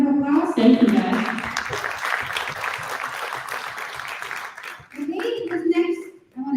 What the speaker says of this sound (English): Thank you for a big round of applause.